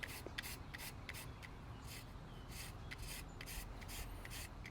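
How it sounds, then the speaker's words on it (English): Lime zest rasped on a grater over a braise, a close, steady series of short scraping strokes repeating about every half second with no voices. "we're gonna go ahead and start with the zest of a couple of those limes here"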